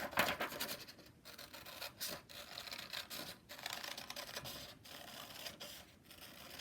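Paper being cut with scissors, a steady run of soft rasping snips and crinkling close by, with brief pauses between cuts and no talking.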